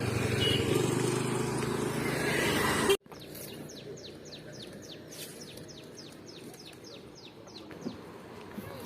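After a loud rumbling start cuts off abruptly, a bird repeats quick high chirps in a steady series, clear against a quiet outdoor background.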